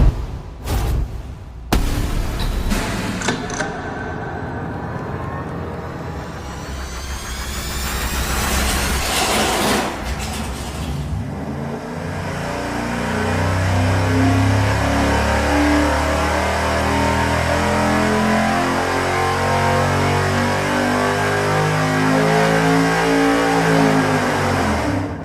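A high-power V8 engine on an engine dyno runs through a test pull after a few sharp transient bangs, its roar climbing steadily in pitch and volume into a loud sustained high-rpm howl.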